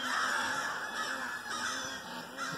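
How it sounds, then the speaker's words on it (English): A crow caws repeatedly while swooping at an owl outdoors, its harsh calls moderately distant over a steady background hiss, with no talking. "You see the crow swooping at it?"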